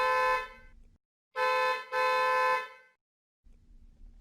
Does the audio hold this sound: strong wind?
no